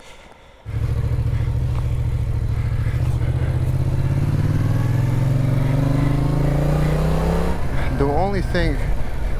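A motorbike with a small fuel tank rides an island road in Croatia, its engine droning steadily and loud from start to finish with a rising pitch, and a brief burst of other sound near the end.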